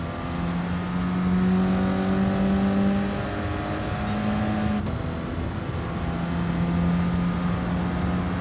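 A Renault Clio Cup race car in a racing video game holds a steady engine drone with smooth gear-held pitch, carried at speed in third gear, with a brief shift or blip near the middle; no one speaks.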